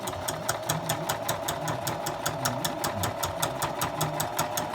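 A sewing machine stitches the middle of a fabric bow tie, its needle clattering in a fast, even rhythm of sharp ticks over a low motor drone for several seconds.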